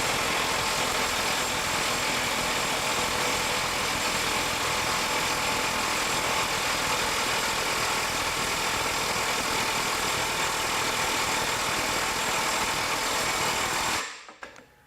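Makita XWT17 cordless mid-torque impact wrench running at its 700 ft-lb setting, a loud continuous rattling hammer that holds steady for about fourteen seconds before cutting off abruptly.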